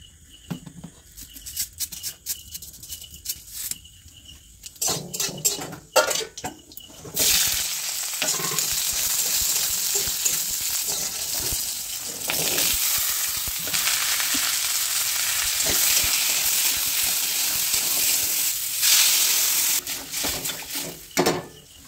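Black cumin and chillies hit hot oil for a tempering, breaking into a loud, crackling sizzle that holds steadily for several seconds after some earlier clattering and handling noises, close and without talk.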